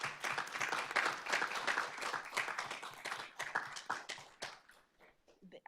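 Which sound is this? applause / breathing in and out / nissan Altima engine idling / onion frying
applause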